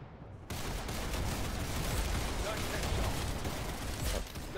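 Rapid gunfire in a Roblox shooting game, a dense continuous barrage of shots lasting several seconds with no talk over it.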